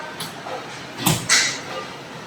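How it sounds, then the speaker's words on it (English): A door on a Groen commercial steamer swings shut, giving a short scrape and then a firmer closing thud with a brief metallic ring. It is fairly near, and no one speaks. "So close the door."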